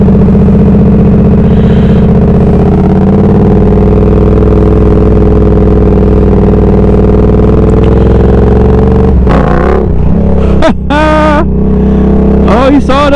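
A Yamaha R7 motorcycle engine revs loudly and steadily at close range during a wheelie attempt, with sharp throttle blips and rising revs near the end.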